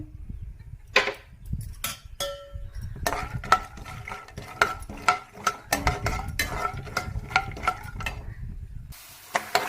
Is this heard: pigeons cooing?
no